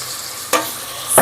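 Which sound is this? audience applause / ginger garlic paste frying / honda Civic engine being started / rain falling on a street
ginger garlic paste frying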